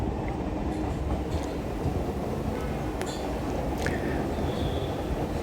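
A Chennai MRTS suburban train runs toward Velachery, a loud continuous rumble and rattle of wheels on track heard from inside the carriage, with occasional faint squeals above the steady roar.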